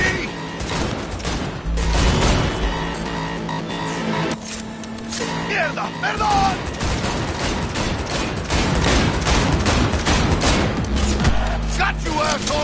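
Bursts of rapid gunfire ring out during a car chase in Cyberpunk 2077, loud and close over a roaring engine, with shouted voices breaking in between volleys.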